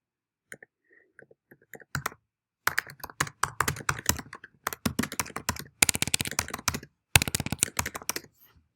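Rapid clicking of keys on a computer keyboard in several bursts separated by brief pauses, close and fairly crisp, with no talking.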